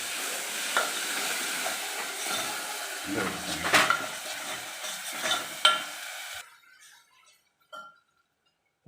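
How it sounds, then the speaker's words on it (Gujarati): Tomato gravy with garlic and chili sizzles steadily in a pan while a utensil stirs and scrapes in a few distinct strokes. The sound then drops away to near silence with one last small clink. "લસણ મરચાંને ચડી ગયું. હવે ટામેટાની ગ્રેવી નાખી દઈએ."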